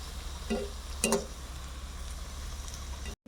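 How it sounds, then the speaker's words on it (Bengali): Moringa (drumstick) leaf pakoras fry in hot oil, giving a faint, steady sizzle with a couple of brief clattering bursts near the start and no voices. "এভাবে সব কয়টা পকোড়ি আমি ভেজে নেব"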